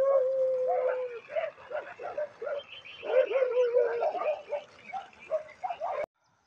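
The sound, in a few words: Dhangari dog barking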